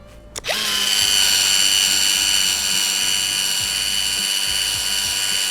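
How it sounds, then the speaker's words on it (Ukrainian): A Dnipro-M DSG-200 cordless sealant gun running at maximum speed, a loud close whirring motor whine that starts abruptly and holds steady with a faint ratcheting mechanical clatter underneath. "Ставимо максимальну швидкість."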